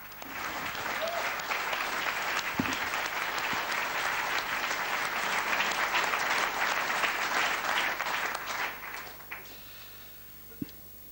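Sustained, dense applause from a large audience at a European Space Agency press conference, steady and loud for about nine seconds before tapering off, with a few last scattered claps at the end.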